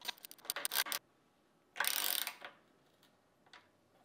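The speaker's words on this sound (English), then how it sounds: "Attach the bolts to the machine and use a 13mm socket to tighten everything down." Socket ratchet with a 13mm socket tightening bolts while assembling a Cobra Class 29-18 patching sewing machine, heard as a quick burst of close clicks, then a longer rasping ratchet sweep and a few faint clicks afterward, with no talking.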